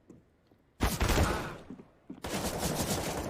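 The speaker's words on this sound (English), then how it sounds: "Nice shot from Acor though" Rifle fire in a Counter-Strike match on the map Vertigo, two loud bursts of rapid gunshots with a short gap between them, heard close in the game audio.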